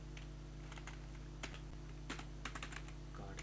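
Rapid typing on a computer keyboard as a name is entered into a web form, a run of sharp, close key clicks that comes in irregular bursts over a steady electrical hum, with no talk.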